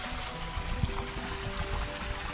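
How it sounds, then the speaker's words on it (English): A backyard koi pond waterfall runs steadily with a soft, continuous rushing trickle and a faint mechanical hum from the filter system beneath. "waterfall is running"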